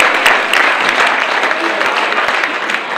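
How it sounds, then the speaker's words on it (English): An audience at a Plymouth County Democratic League breakfast applauds, loud dense clapping from a roomful of people sustained for the whole stretch without letting up. "let's give a round of applause for George O'Toole and all the leaders of Plymouth County"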